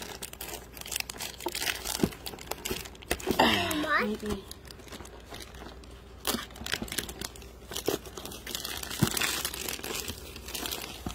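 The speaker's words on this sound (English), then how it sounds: "inside is another box wrapped in a foil envelope. Let's get that off." Foil envelope wrapped around a box being torn and crinkled open, with a burst of ripping and crumpling in the middle amid rustling handling noises, close and moderately loud.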